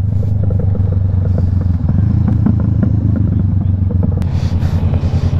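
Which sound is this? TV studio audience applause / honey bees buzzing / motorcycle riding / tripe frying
motorcycle riding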